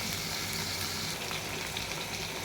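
Noodles stirred and fried in a pan with two packets of noodle masala alongside chicken, a dense, loud, unbroken sizzle filling the short stretch with no talking.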